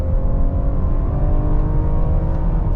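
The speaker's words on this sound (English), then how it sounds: "Torque converter really didn't let it rev much, but the V6 kicks in strong." A 2024 Chevy Blazer RS V6 in sport mode accelerates hard, its engine droning loud and steady with a rising tone throughout, heard from inside the cabin with no talk.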